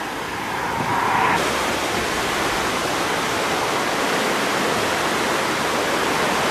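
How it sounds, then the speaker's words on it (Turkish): The flooding Limonlu stream, swollen by snowmelt and overflowing its retaining wall, roars as a loud, continuous broadband rush of water with no pauses. "eriyen kar suları Limonlu Mahallesi'nden geçen Limonlu Deresi'ne sel suyu olarak ulaştı"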